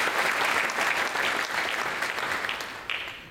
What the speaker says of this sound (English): Would all of you give a round of applause?